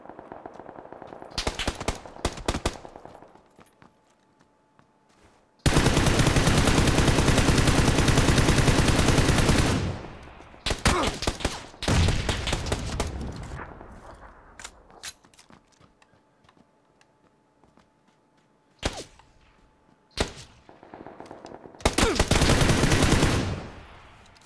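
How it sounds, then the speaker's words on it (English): Gunfire rings out in PUBG on Xbox: scattered single shots and short bursts, then a long sustained automatic volley lasting several seconds, followed by more bursts separated by quiet gaps, some loud and close, others thinner. "That was the worst shooting I've done in ages"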